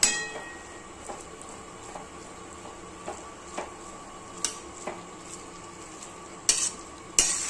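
Fenugreek leaves cooking with garlic in a pan, a soft steady sizzle punctuated by regular clinks and scrapes of a spoon against the metal, a few sharper knocks near the end, no talking.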